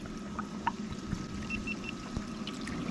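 Water discharging from a newly plugged-in computerized submersible utility pump, a steady rushing, trickling flow heard continuously at moderate distance with faint intermittent clicks.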